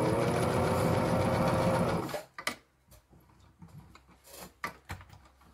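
Sewing machine running a short burst of stitches on a homemade food or bear bag, a loud steady whirring hum for about two seconds, then stopping, followed by quiet handling noises of the fabric.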